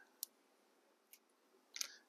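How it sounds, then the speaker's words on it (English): Small scissors snip Scotch tape for model railroad lettering, three quiet, sharp clicks spaced across a near-silent moment. "trim it down to size with my scissors"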